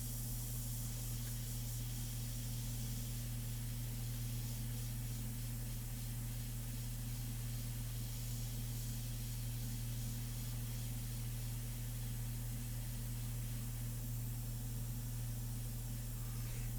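An airbrush, a 2020 fine model, sprays India ink onto a portrait in a steady, continuous hiss that runs unbroken for the whole stretch, close and even with a low hum beneath it and no talking.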